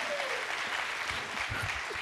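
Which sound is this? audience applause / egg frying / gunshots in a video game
audience applause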